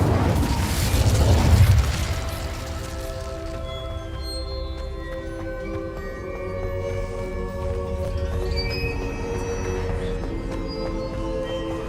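A fire spell cast in the Hogwarts Legacy video game bursts with a loud, booming whoosh at the start, then settles into a sustained crackling, flickering hum that lingers under layered tonal game ambience.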